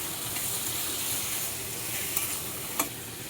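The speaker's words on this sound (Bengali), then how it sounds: "তো মশলাটা দিয়ে একটু কষিয়ে নেব।" Paste of white and black mustard seed ground with green chilli frying in a pan for a tengra fish curry, a steady soft sizzle with a couple of faint stirring clicks, close by and alone.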